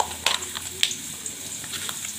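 Ginger paste fries in a hot pan with onion and garlic pastes, a continuous sizzle punctuated by a few sharp spoon clinks and stirring scrapes.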